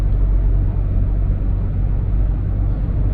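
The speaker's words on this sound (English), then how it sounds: "you guys probably heard the wind noise now" Steady wind noise inside a Hyundai car driving on a breezy day, a loud continuous low roar and rumble with broadband hiss throughout, no talking.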